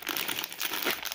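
A small paper booklet is crumpled up close, giving a dense, crackling crinkle that lasts about a second.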